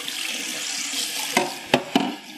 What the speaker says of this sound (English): So I'm gonna rinse that with very hot water.